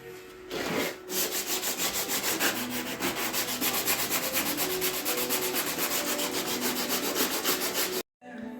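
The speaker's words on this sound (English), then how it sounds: "not having an orbital sander and doing it all by hand." Hand sanding of filler on an R33 Skyline front bumper: steady rhythmic back-and-forth rubbing strokes at close range, continuous for about eight seconds with a brief pause near the end, with no talking.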